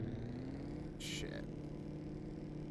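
A damaged truck engine runs in a trucking video game, a low steady droning hum with faint tonal whine, quiet throughout, with a brief burst of brighter noise near the middle.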